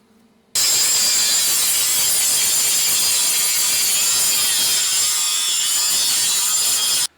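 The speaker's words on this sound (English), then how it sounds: "Let me clean them up with a grinder and clean this stuff out here." Grinder cleaning up metal mounting pieces for truck air bags, a loud continuous harsh whine and grinding roar that starts abruptly and runs steadily close by before cutting off.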